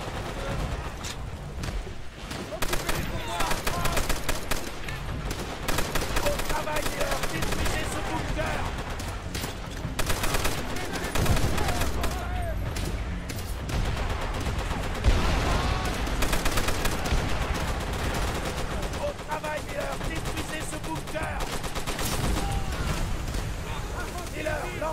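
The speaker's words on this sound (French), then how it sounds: "il faut que je recharge d'abord ma mitrailleuse du coup" Machine-gun fire and dense gunfire rattle through nearly continuous battle noise in the World War II shooter Call of Duty: World at War on PS3. Explosions and loud game sounds fill the whole stretch.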